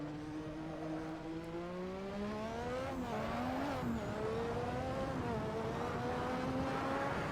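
Turbocharged McLaren MP4/4 Formula One engine revving in Assetto Corsa at Spa, a buzzing note climbing steadily, dipping briefly around a gear change, then rising again, loud and close with no talk.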